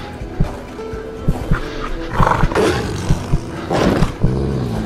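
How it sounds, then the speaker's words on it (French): Wolves growl and snarl while attacking in the video game Kona, with repeated sharp thuds and bursts of roaring over a steady low game background. "Ça va faire la guerre contre les loups, c'est ça?"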